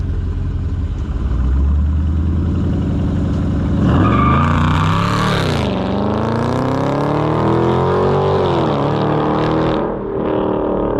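A 2020 Dodge Charger Scat Pack Widebody on 315 tires launches hard, its V8 roaring up through rising revs, dipping at each gear change and climbing again, loud and close throughout.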